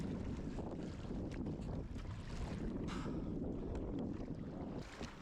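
A steady northerly wind of around ten knots buffets the microphone on a kayak far offshore, a constant close rumble and rush with faint splashes of water and occasional sharper gusts.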